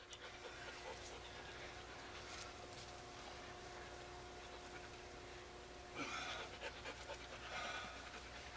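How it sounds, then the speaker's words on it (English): Chloe the dog pants steadily and rhythmically close by outdoors while people plant a bush, the breathing continuing throughout with a louder burst near the end. "Chloe, leave him alone, silly dog."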